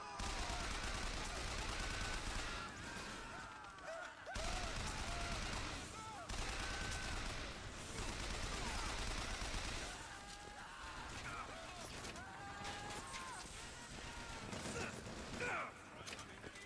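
Bursts of gunfire from BioShock Infinite combat rattle out in repeated volleys, sharp and busy, with quieter gaps between clusters of shots, all fairly faint overall with a voice speaking at times.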